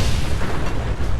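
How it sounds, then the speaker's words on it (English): A deep, heavy boom from a landmine explosion in Fallout 4 fills the whole moment, loud and rumbling with no speech over it. "I didn't even see the big explosion."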